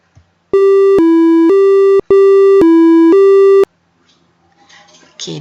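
A micro:bit plays a short programmed melody of pure electronic beeping tones, six clean notes in two even groups of three, loud and alone, followed by a brief pause and faint background noise.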